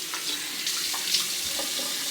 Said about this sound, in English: I'm going to do a rinse.